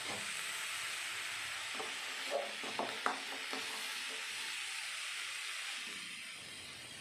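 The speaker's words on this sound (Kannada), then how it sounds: "ಈ ರೀತಿ ಮಿಕ್ಸ್ ಮಾಡ್ತಾ ಕಾಳನ್ನ ಸ್ವಲ್ಪ ಫ್ರೈ ಮಾಡ್ಕೊಬೇಕಾಗುತ್ತೆ" Boiled avare beans fry with curry leaves and coriander in a pan, giving a soft continuous sizzle. A few light scrapes and clinks of stirring come in the middle, with no talk.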